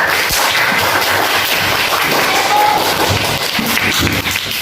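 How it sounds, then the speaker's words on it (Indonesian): A classroom of young children claps together for a classmate, producing a dense, continuous burst of quick hand claps at close range that holds steady for several seconds. "Tepuk tangan buat Kaila."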